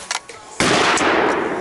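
A single loud, sharp gunshot comes from a gun fitted with a muzzle brake. It cracks sharply and then decays in a long, broad blast. A few small handling noises come just before it.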